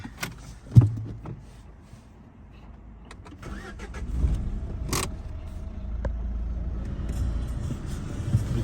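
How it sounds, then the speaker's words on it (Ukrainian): A 2011 Renault Megane 3 with a 1.5 dCi 81 kW diesel engine, inspected with the bonnet open, gives a few clicks and clunks before the engine cranks and starts, then settles into a steady, close diesel idle. "Відкрию капот, запущу машину,"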